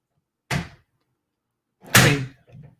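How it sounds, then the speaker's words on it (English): A door is pushed shut with a firm thud, followed by a second louder slam-like thump and a soft rattle settling afterward, in an otherwise quiet room with no talking. "Close the door, please."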